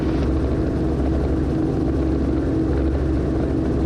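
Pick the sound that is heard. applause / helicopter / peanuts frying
helicopter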